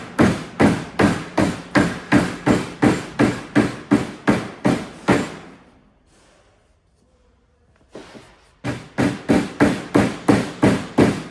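Small mallet tapping a rubber seal into place with a block while assembling a sliding sash, a rapid even run of sharp close knocks that pauses briefly in the middle, then resumes at the same quick pace.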